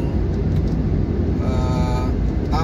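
Cars pass along a nearly empty Jakarta city toll road during coronavirus restrictions, making a steady, loud road rumble with a brief rising engine whine toward the end.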